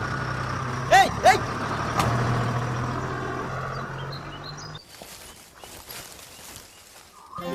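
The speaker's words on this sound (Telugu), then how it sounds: "అవతల బస్సు వెళ్ళిపోయింది" A bus pulls away on a road, a rumbling engine drone with two short high horn-like tones near the start, then the rumble cuts out, leaving quieter scattered street noise.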